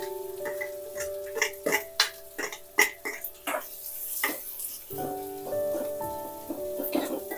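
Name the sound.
onion frying in hot oil in a wok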